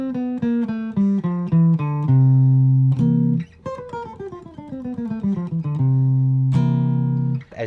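Electric guitar running a descending bebop scale pattern across two octaves, a steady stream of clean single notes stepping downward in even phrases, close and prominent with no voices.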